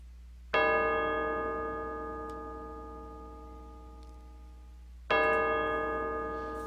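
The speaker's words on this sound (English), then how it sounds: "Those bells are ringing." Mission bells in a Western-themed video game ring two separate resonant strikes several seconds apart, each ringing out with a long, slowly fading metallic tone, with nothing else heard around them.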